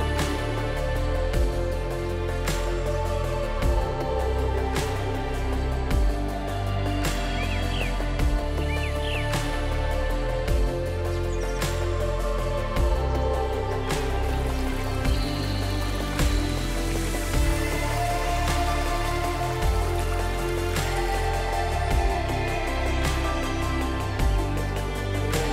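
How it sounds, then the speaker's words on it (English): Steady rainfall patters through jungle near Stone Valley Resort in Sakleshpur, Karnataka, in the Western Ghats, a dense, continuous wash of drops with occasional louder drips and no voices. "Natural jungle ambience."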